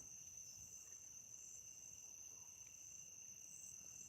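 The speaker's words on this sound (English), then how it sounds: "There are some crickets, but they're not super loud like they were a couple weeks ago." Crickets chirp at night in a woodland setting, a steady high, faint insect trill running continuously and alone with no voices.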